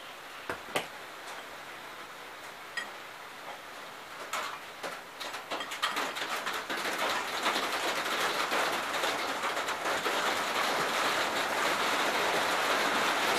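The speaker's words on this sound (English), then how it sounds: "Excuse the background noise, it's raining a little bit." Light rain falling outdoors near a burnt 1963 Gravely L8 tractor, a broad steady hiss that swells and thickens after a few seconds, with occasional faint taps and no speech.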